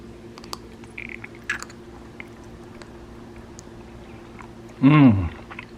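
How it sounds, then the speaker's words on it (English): Biting and chewing a homemade pork and ginger soup dumpling, faint soft mouth clicks and chews, then a louder wet bite and squish near the end, close to the microphone. "I'm going to go in, take a bite, see how it tastes."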